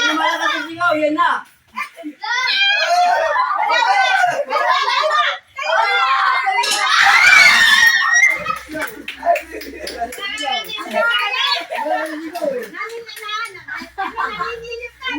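Children shout and cry out loudly in an excited, chaotic burst during a family game, voices overlapping with a sharp scream in the middle amid rustling.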